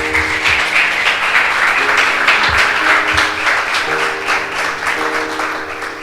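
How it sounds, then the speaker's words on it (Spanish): Church congregation applauding steadily, a dense wash of clapping sustained throughout, mixed with a low tonal hum of instruments or organ underneath. "el aplauso es para Dios"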